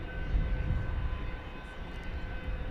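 A Volaris airplane departing DFW Airport at night for Morelia, Mexico, a faint, distant low rumble of engines, steady and fairly quiet over a few seconds.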